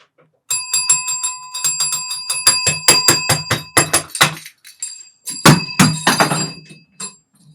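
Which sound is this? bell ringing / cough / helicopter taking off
bell ringing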